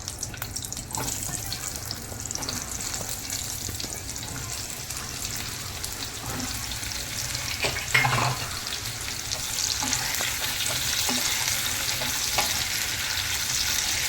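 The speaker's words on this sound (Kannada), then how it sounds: "ಕಡಾಯಲ್ಲಿ 2 ಟೀ ಸ್ಪೂನ್ ಎಣ್ಣೆ ತೆಗೆದುಕೊಳ್ಳಿ. ಅದಕ್ಕೆ ಮಶ್ರೂಮನ್ನು ಹಾಕಿ ಫ್ರೈ ಮಾಡಬೇಕು." Button mushrooms frying in a little oil in a kadai, giving a constant close hiss and sizzle with a few stirring knocks, steady throughout and free of speech.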